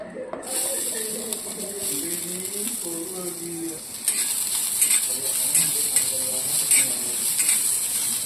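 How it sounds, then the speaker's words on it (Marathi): Chopped onion sautéing in a pan for a crispy corn snack gives a steady, close hissing sizzle that starts abruptly and runs throughout under ongoing talking. "कांदा घातल्यानंतर एक ते दोन मिनिट छान परतून घेऊया"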